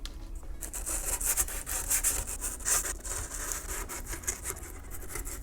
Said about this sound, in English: I think this is going to require a brand new coarse sanding stick.